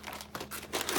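Packing paper crinkling and rustling close up while a subscription survival-gear box is unboxed, a quick series of crisp crackles rising in loudness toward the end.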